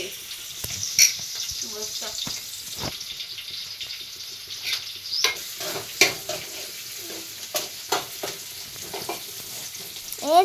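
Spices sizzle in hot oil with a steady crackle, broken by sharp clinks and scrapes of a spoon against the pan, close and fairly loud.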